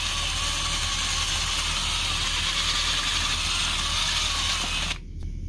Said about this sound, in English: So let me take a drill bit and make it a little bit bigger